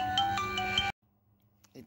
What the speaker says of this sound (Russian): Так, звонят.